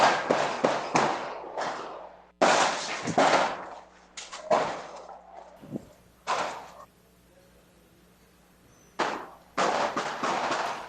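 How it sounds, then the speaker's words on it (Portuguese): Heavy weapons fire at night on Morro do Cruzamento, a hillside community, in sharp, loud bursts of sequential shots with echoing tails, grouped in rapid clusters separated by short gaps and then a longer quiet stretch before more shots. "vamos ouvir novamente os tiros, a intensidade dos disparos que aconteceu ontem"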